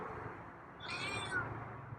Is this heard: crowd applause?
no